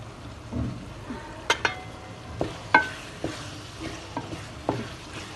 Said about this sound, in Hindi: भिंडी डालने के बाद इसके ऊपर हमने जो गरम मसाला रखा हुआ है ये शामिल करना है।